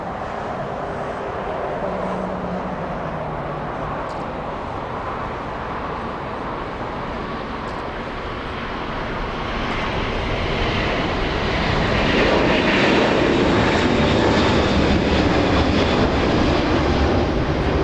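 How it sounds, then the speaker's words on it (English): A Korean Air Airbus A380 takes off from runway 25 left at LAX, a loud, broad jet engine roar heard from close by that swells and grows louder toward the end as it lifts off. "Korean Air Super, the second A380 that we saw today depart right next to us on runway 25 left"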